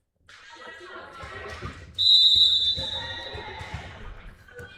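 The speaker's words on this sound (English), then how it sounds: "And Methvin gets the whistle, sends her serve away" A referee's whistle shrills at a girls' high school volleyball match in a gym, one sharp, sustained blast cutting over crowd noise, ball bounces and a commentator talking.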